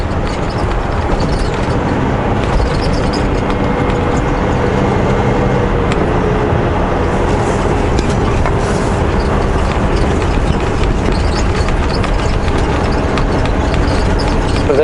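Rumbling vehicle cabin noise from a truck rolling over a bumpy road near Tacoma, a steady broadband drone with rattles and jolts throughout, loud and continuous with no talk.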